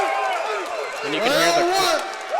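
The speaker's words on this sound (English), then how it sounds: "can hear the crowd through the headphones, Justin. It's loud in here." Crowd cheering and whooping at a Synergy FC MMA fight in Buffalo, Missouri, loud and close, with voices shouting and rising in a burst partway through.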